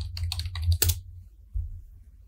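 A short run of computer keyboard keystrokes as a search keyword is typed, a quick cluster of crisp close taps followed by a brief pause and one softer tap, with no talking.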